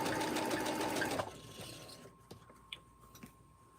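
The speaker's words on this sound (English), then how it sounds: "I'm just sewing the borders on the mini quilts." A sewing machine whirs steadily as it stitches borders onto rag quilt blocks, then stops, leaving faint clicks and handling of fabric and machine parts.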